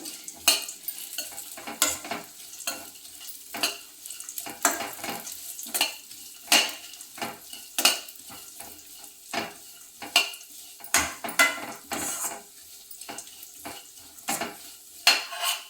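Sunflower, pumpkin and cucumber seeds roast in a pan as a spoon stirs them, giving rhythmic scraping and clinking strokes every second or so over a soft crackle.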